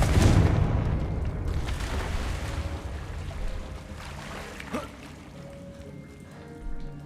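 A Confringo fire spell blasts in the Hogwarts Legacy video game, with a loud booming burst at the start that fades into a rumbling, rolling tail and a few fainter thuds after.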